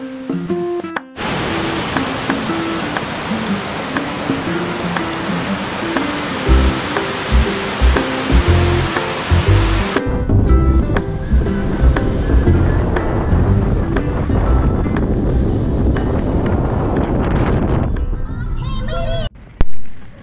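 Sea waves at Butterfly Beach in Goa, a loud, steady surf wash that runs without a break for about twenty seconds, with no voices over it.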